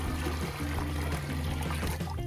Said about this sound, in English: We're gonna pour it all into our big cauldron